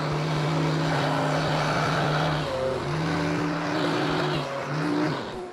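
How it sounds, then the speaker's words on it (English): A thickness planer feeds purpleheart wood with a loud motor drone and several sustained cutting tones that shift pitch as the board passes through, close up and without talk. "I'm going to plane this down to the same thickness of the wood we used in this mallet"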